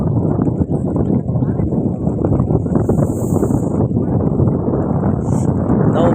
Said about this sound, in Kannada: ಈ ಗಾಳಿ ಬೀಸ್ತಿದೆ ಗೆಳೆಯರೆ